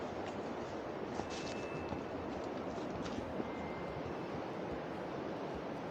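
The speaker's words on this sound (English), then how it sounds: "I hear the waterfall." A waterfall in Niagara Glen gives off a faint, steady broadband rush heard from a distance on a wooded hiking trail, with no talk.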